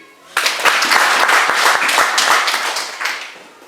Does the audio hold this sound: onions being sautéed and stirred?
no